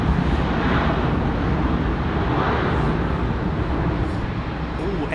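A former Continental Boeing 777 with GE90 engines roars past at Heathrow, a loud, steady broadband rumble that holds throughout, with a hint of wind buffeting the microphone.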